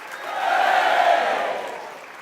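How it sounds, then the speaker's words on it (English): A crowd at a closing ceremony roars a single loud 'hooray' cheer that swells and fades over about two seconds, many voices together at close range. "Come on, one more cheer"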